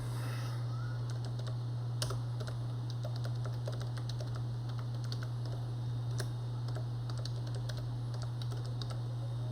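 Someone types an ID on a computer keyboard, with quick, irregular keystroke clicks in short bursts over a steady electrical hum throughout.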